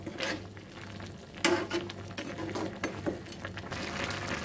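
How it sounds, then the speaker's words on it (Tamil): Mutton fry being stirred in a pan, close scraping and clattering of a spoon against metal over a low sizzle, with uneven knocks throughout. "இப்போ நல்லா இத கிண்டி விட்டுக்கலாம்"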